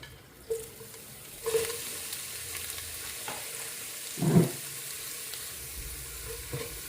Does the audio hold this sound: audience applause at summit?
no